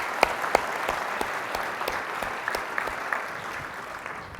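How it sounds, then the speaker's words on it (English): Audience applause at a Palm Beach County State of the County speech, a steady wash of many hands clapping in a hall with a few sharper nearby claps, continuous throughout. "Let's have a round of applause for all of them."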